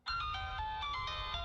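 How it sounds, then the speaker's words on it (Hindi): A phone ringtone plays a steady, bright electronic melody, loud and continuous, with no voices over it. "फोन उठाओ।"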